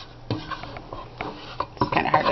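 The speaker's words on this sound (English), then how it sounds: "It's kind of hard to stir with only one hand." A spoon scraping and knocking against a pot while stirring thick no-bake cookie bar mixture with oats, uneven clunks and scrapes by hand, close and fairly loud, no speech.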